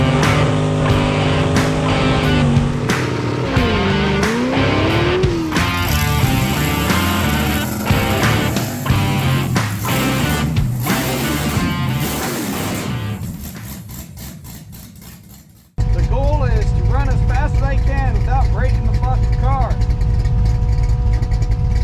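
Chevrolet Corvette at a drag race, engine roaring loud and close through rising revs and gear changes, cutting off sharply midway and then resuming at a steady drone, with a voice heard over it.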